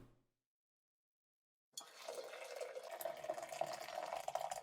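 Hot water pours into a glass beaker, starting abruptly after a moment of silence as a continuous close splashing stream with a rising, filling tone.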